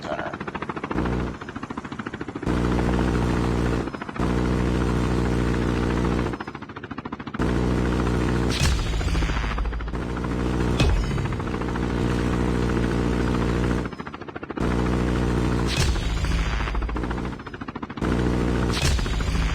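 Helicopter rotor thumping overhead in a military shooter video game, mixed with bursts of chopper-gunner gunfire and steady engine hum, loud and continuous with brief drop-outs.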